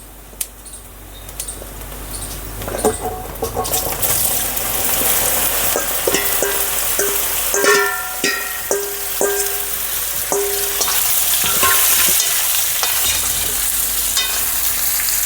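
Raw mango pieces sizzle in a hot pan with fenugreek and coriander seeds for pickle, while a utensil scrapes and clinks against it in irregular stirring strokes.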